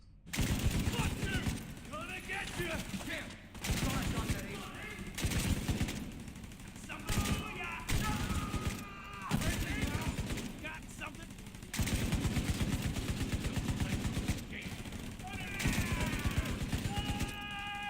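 Light machine gun fire in The Division 2, a video game, heard as long sustained automatic bursts across the whole clip with brief pauses between them, loud and close, mixed with other game sounds.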